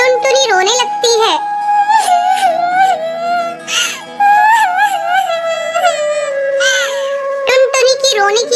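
A high, wavering cartoon bird's cry wails on loudly and continuously, sobbing in long drawn-out rises and falls with brief catches of breath.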